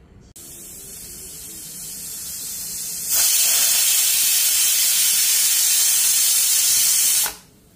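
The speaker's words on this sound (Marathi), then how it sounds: "एक शिट्टी झालेली आहे" A pressure cooker steaming vegetables builds a soft hiss, then lets out a loud, sustained rush of steam for about four seconds before it cuts off abruptly; no voices.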